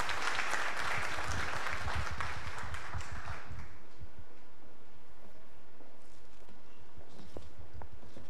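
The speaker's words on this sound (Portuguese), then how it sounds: "Por favor, palmas para a coordenadora do ILIS UBRA" Clapping from an audience at a civic event is loud and dense for about three seconds, then drops away quickly, leaving only faint scattered claps and room noise.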